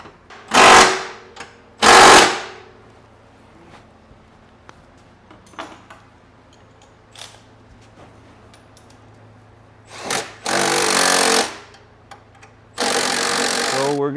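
Bolts on a manual-transmission Honda Element or CR-V transmission mount being run in with a power tool: two short loud bursts near the start, then two longer sustained whirring runs later, with quiet shop clatter between.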